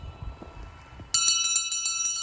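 A bright metal bell rings out suddenly after a quiet stretch, struck repeatedly in a quick run of clear, ringing tones that hang and overlap.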